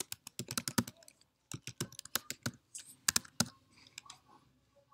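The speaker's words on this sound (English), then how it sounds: "Let's type it in." Fingers tapping out a password on a computer keyboard, crisp close keystrokes in quick uneven bursts with short pauses between groups.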